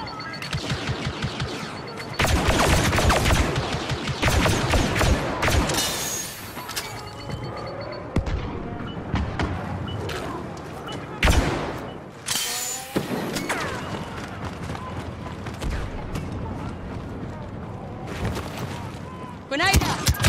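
A turret fires in a Star Wars Battlefront 2 multiplayer battle on Jakku, its blasts and impacts rumbling almost without pause amid other battle noise, while voices talk over the din.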